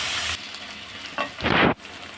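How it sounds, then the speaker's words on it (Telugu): Chopped onions and green chillies hit hot oil with cumin seeds, making a loud hiss that drops back to a steady crackle, then rises again in short bursts of sizzling as they are tossed. "అలాగే నేను కట్ చేసిన ఆనియన్, పచ్చిమిర్చిలు వేసుకొని వేయించుకోవాలి."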